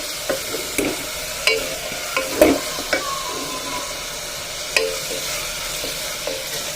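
A utensil stirs food in a hot pan, giving repeated scraping clacks in an uneven rhythm over a constant soft sizzle, close and fairly loud, with no talking.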